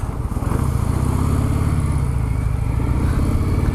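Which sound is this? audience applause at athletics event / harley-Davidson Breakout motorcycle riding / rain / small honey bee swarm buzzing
harley-Davidson Breakout motorcycle riding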